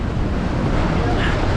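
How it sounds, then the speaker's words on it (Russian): Storm waves crash on the Crimean shore in a fierce, biting wind, making a loud, unbroken roar of surf and gusting air that fills every moment, close to the microphone. "Сейчас подождем большую волну."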